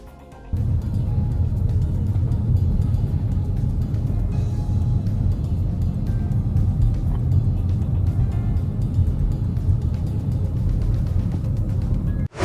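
Heavy back-to-back traffic crawls along a Nevada freeway during a protest, a continuous loud rumble of car engines and tyres that starts abruptly after a brief quiet moment and holds steady throughout.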